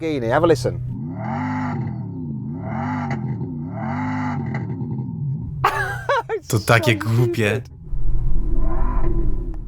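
A Tesla Model X plays a synthetic Lamborghini engine note through its external speaker: three evenly spaced swelling growls, then a harsher revving burst up close. Voices talk over and between the sounds, and one person laughs.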